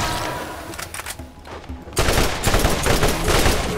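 A turret in Borderlands fires its machine gun in rapid, loud bursts, a dense chatter of shots that briefly thins and then returns harder, with a voice heard in the middle.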